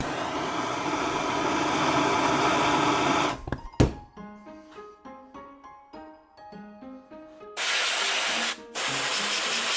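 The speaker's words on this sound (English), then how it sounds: "take spray paint, spray it on top of water" Matte spray paint hisses loudly from a can onto a water surface in long steady bursts, broken by a stretch of faint clinks and tapping before the spraying resumes.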